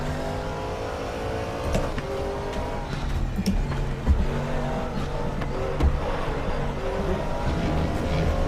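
Porsche 911 GT3R race car in the RaceRoom Racing Experience sim, its engine droning and revving through gear changes at steady volume, with brief tire squeal and no talking.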